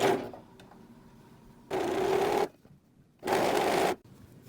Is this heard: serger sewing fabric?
yes